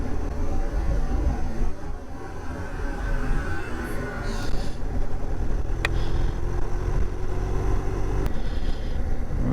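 A motorcycle engine drones steadily while the bike is ridden on a long road trip toward Key West, with a continuous rumble blended with wind rush and no clear gaps.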